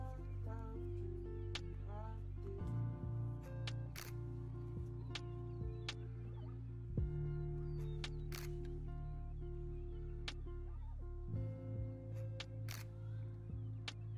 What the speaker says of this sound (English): I really don't like that like shutter sound that's in this.